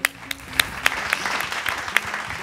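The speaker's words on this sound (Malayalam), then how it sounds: "ഒരു കയ്യടിയും കൂടെ." Applause breaks out for a performance of a devotional song, with a few sharp, distinct claps over a softer spread of clapping from the audience, close and moderately loud.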